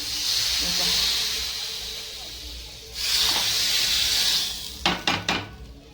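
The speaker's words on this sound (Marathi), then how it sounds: "पहा आपण असा तडका मारला" A single garlic clove is tempered in hot oil for a spinach-and-paneer curry, giving two long, loud, steady sizzling hisses, then a quick run of sharp metal clinks from a utensil against the pan.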